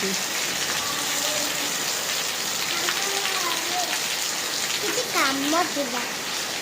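Heavy rain pours down steadily, a constant dense hiss on the surface nearby, with faint voices rising briefly through the downpour.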